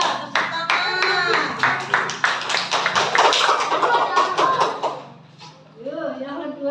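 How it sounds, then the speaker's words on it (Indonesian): A small group claps hands during an academic coaching session, a brisk burst of sharp claps over about five seconds, then a voice speaks alone. "tepuk tangan"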